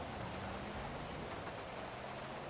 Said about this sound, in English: I know you hate the rain